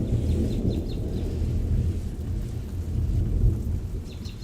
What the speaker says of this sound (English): I'm outside and it's thunderstorming.